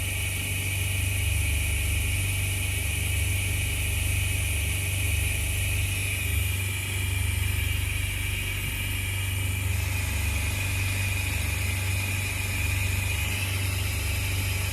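Hyperbaric oxygen chamber pressurizing with a loud, steady mechanical roar and hiss, constant broadband noise with a low hum that continues without a break, close and enveloping, with no talking.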